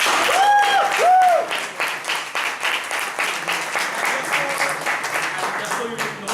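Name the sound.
audience applause for a speaker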